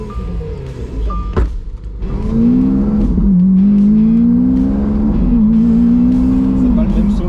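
An old Citroën fitted with a heavy truck engine drives and revs, a deep, loud engine drone rising and falling in pitch after a brief thump, with people talking over it.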